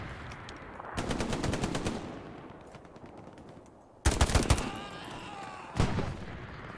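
Machine gun fire crackles in the Hell Let Loose video game, with rapid bursts of shots in several rattling volleys, the second burst louder and closer, followed by a shorter final burst.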